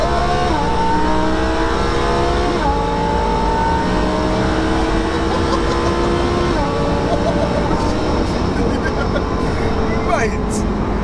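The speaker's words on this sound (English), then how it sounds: "that V10 right behind your head with the added boost" A Lamborghini Huracan's twin-turbo V10 revs hard in a third-gear pull, climbing in pitch through several gear changes, loud and close, with a steady roar of wind and road noise.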